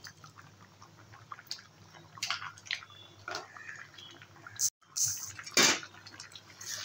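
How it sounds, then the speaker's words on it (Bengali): Split chickpea dal bubbling in a pot, with faint, scattered blips and soft popping of the thick boiling lentils, quiet and intermittent with a few sharper spatters. "দেখুন ডালটা এবারে ফুটে গেছে"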